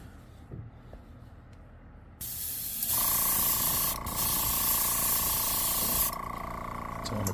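Airbrush spraying paint onto an X-Rap Smokey Shad fishing lure: faint handling noise, then a loud, steady close hiss that starts abruptly, shifts in pitch partway through, and eases off near the end.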